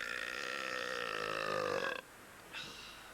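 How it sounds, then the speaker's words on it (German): A long, loud burp from a competitive burper during a record attempt in Berlin, sustained for about two seconds and followed by a shorter second burp, with no talk. "behauptet, er könne noch lauter rülpsen"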